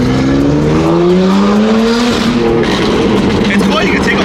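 BMW F80 M3 with a loud aftermarket exhaust and flame tune revving hard up close, the engine note climbing steadily and then holding, with a gritty, raspy roar throughout.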